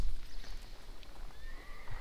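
A horse whinnies in the Napoleonic Wars video game, a clear neigh over clopping hooves and gameplay background noise, with a brief rising call near the end.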